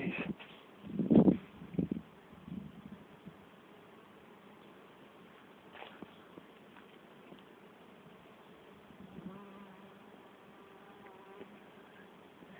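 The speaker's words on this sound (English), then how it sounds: "the bees are all getting stuck in pollinating them all" Bees working box thorn flowers outdoors, a soft, wavering buzz that comes and goes, loudest in a close pass near the start, then faint intermittent hums over quiet air, no voices.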